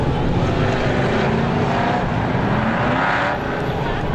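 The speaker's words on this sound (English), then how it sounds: "Leclerc in the 45 of Biggie got into the 0-2 of Herron." Race cars roar around the Star Speedway oval during a feature race, a dense, loud, continuous wall of engine noise that holds steady and swells slightly as cars pass.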